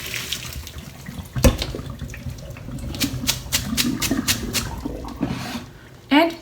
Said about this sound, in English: So turn off the heat and drain down.